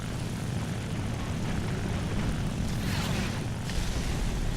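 Propeller aircraft engine in the War Thunder combat game drones loudly and steadily, a thick continuous roar with a brief swelling whoosh near the end, no voices over it.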